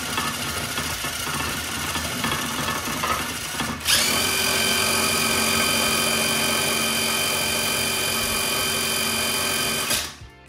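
A cheap Chinese mini wind turbine spins up to high RPM, a steady whining hum with a sharp tonal whine that jumps in pitch partway through and holds loud and constant before cutting off near the end.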